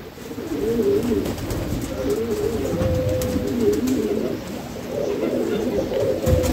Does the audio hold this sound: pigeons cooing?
yes